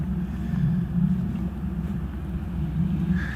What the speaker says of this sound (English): Hear that rumbling? That's a plane.